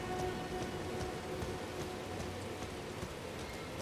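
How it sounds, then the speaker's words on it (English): Steady rain pours in Elden Ring, an even hiss of falling water with scattered drop patters, quiet and unbroken throughout, no voices over it. "Look at this nice pleasant rain we have"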